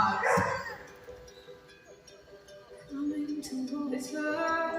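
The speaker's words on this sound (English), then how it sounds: "with us are these amazing dogs we call the Marvelous Mutts" Performing dogs from the Marvelous Mutts show at Stone Mountain Park bark outdoors, with a sharp nearby bark at the start followed by scattered yips and a faint crowd murmur.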